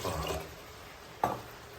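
Water pours into a pot as the base for a spiced dry-ginger and pepper fever coffee, giving a steady soft rushing splash with a brief louder splash near the end.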